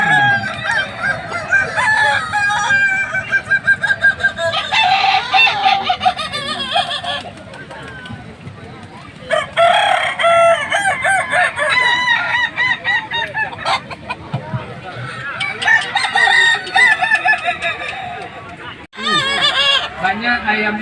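Kukuak Balenggek roosters crow loudly and repeatedly at a contest in Padang, their long multi-part crows overlapping with clucking and an announcer talking over a busy outdoor crowd.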